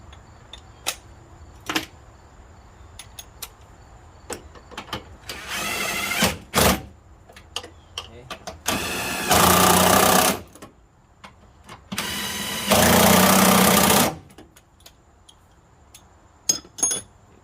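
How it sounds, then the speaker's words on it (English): A ratchet tightens engine mount bolts on a 2013 Nissan Sentra during a passenger-side mount replacement: scattered sharp ticks and clicks, then several bursts of rapid ratcheting lasting a second or two each, close and fairly loud. "Okay, let's tighten those. Tighten the bottom on first."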